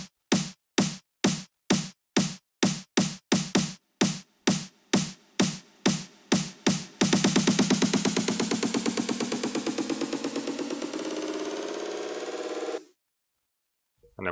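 EDM build-up in FL Studio: evenly spaced snare hits repeat for about seven seconds, then roll into a dense, rising pitched snare roll that climbs for several seconds before cutting abruptly to silence.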